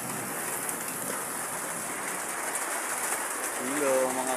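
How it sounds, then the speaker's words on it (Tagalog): Heavy rain pours steadily on a mountain zigzag road in Atimonan, Quezon, a dense even hiss throughout, with a brief tonal sound near the end. "Nabutan na ng ulan,"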